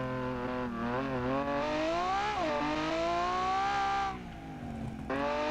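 A 500hp homologation-special car engine in the driving game BeamNG.drive revs up through rising gears, a loud harsh ripping tone climbing, dropping at shifts, then easing off briefly near the end.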